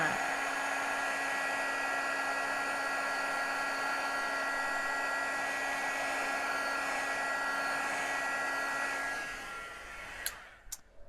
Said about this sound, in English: Let me heat up my heat tool.